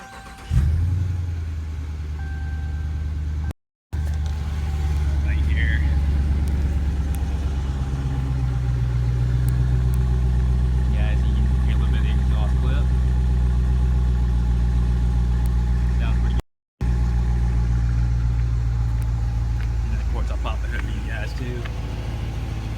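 2017 Dodge Charger R/T with a 5.7 Hemi V8 starting with a sharp crank and catch, then settling into a steady, deep idle rumble close by, with a voice speaking briefly over it.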